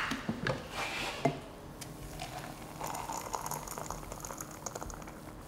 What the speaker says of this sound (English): you're ready to pour yourself some